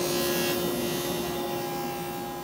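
A table saw takes a shallow pass across the blade to cut cove molding in wood, giving a loud, steady, continuous whine with an even high-pitched hum throughout.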